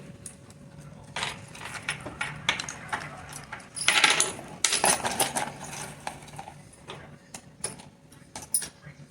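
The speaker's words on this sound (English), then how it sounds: "putting all of my tools back" Metal clay tools clink and rattle as they are lifted out and stacked in a container, with irregular close metallic taps and jingles, a busier cluster of clatter midway.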